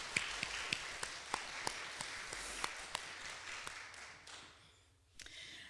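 Scattered audience applause for a kitchen crew at a seniors' gathering, faint and fairly distant, with sharp individual claps over a soft wash that dies away after about five seconds.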